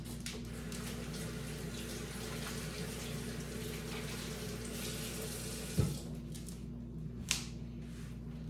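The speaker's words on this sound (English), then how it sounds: "Washing my hands." Running tap water pours steadily into a kitchen sink during hand washing before baking, a continuous soft stream with a couple of brief knocks near the end, heard alone.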